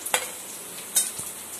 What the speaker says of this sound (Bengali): বাকিটা কড়াইতে ভাজা ভাজা হচ্ছে।